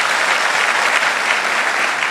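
An audience at a motivational seminar in Mumbai claps loudly together, a dense, steady wash of applause from a large crowd with no voices on top.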